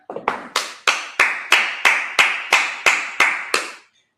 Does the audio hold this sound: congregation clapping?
yes